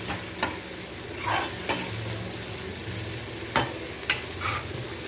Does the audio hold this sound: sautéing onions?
yes